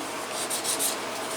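A leather IWB holster for a Hellcat pistol being rubbed with 320 grit sandpaper, a steady soft gritty hiss that swells slightly with each stroke, close by with no talking.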